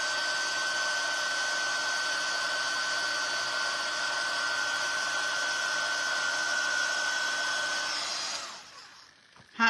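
A handheld craft heat tool warms a small piece of a spooky mini hat, giving a steady close whirring blow with a thin whine. It runs alone for about eight seconds and then cuts off.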